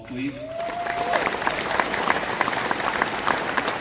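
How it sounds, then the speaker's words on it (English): An audience at a men's meeting breaks into applause for someone in the room. The clapping is brisk and continuous, starting right after a short spoken word. "can we give that person a round of applause"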